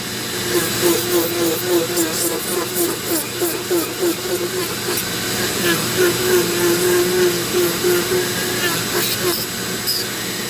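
A Dremel rotary tool carves wood on a fairy castle piece, a steady high whine with gritty grinding that swells and dips in short pulses as the bit bites in, close and continuous, with a voice faintly underneath.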